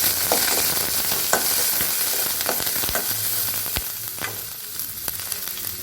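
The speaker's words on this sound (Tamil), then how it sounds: "எல்லாத்தையும் அதில் சேர்த்து நல்லா வதக்கிக்கணும்" Garlic, green chili, roasted gram, fennel, cinnamon and cloves sauté in a pan, a steady loud sizzle with occasional stirring scrapes, close by, no voices.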